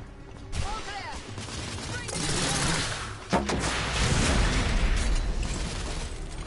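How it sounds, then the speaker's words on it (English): Suppressive gunfire in The Order video game, a dense, continuous clatter of shots mixed with bursts and a sharp bang partway through, with voices faintly beneath. "Lay down suppressive fire!"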